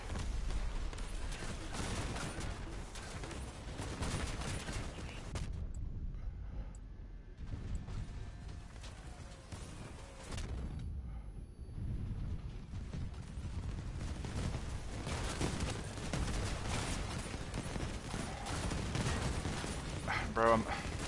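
Rapid gunfire in the video game Leviathan Wars, dense continuous bursts of shots with heavy low booms, mixed with excited voices talking over the action.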